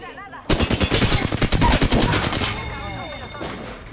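Automatic gunfire in a shooter video game erupts abruptly, a loud rapid stream of shots for about two seconds before tapering into quieter game effects.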